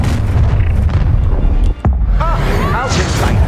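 A spell blast from Hogwarts Legacy, the Expelliarmus cast, lands as a sudden booming burst after a brief drop, over dense, continuous game noise and effects.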